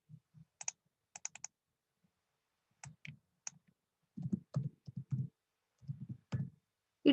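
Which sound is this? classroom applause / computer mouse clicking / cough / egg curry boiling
computer mouse clicking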